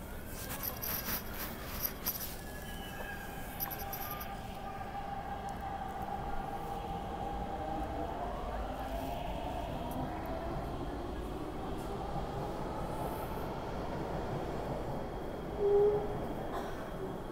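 A metro train pulls away from a station toward turn-back sidings with a steady rumbling roar and rising, whining motor tones that climb and sweep in pitch over the long stretch.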